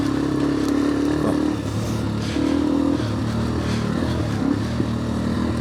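A motorcycle being ridden, its engine droning steadily with shifts in pitch as it changes speed, loud and close amid constant wind rush and road noise, with no talking.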